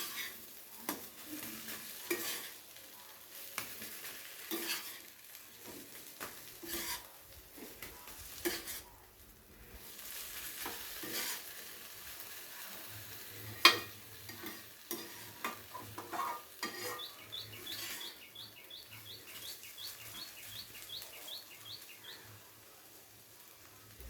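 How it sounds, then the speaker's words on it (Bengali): Papaya ghonto with coriander leaves and garam masala being stirred and fried in a pan, quiet frying under repeated scraping stirs and the occasional clink of a utensil against the pan, close by. "ধনেপাতা আর গরম মশলা দিয়ে খুব ভালো করে নেড়ে চেড়ে আবারও একবার ভেজে নিয়েছি"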